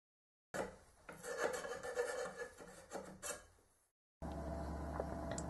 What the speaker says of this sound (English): I use the safe edge of the file on the bottom to prevent the teeth from digging in.